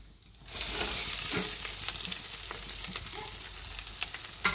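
Grated coconut hits a hot pan with a steady, moderate sizzle, then is stirred with scattered scraping and light tapping of a spoon over the frying hiss.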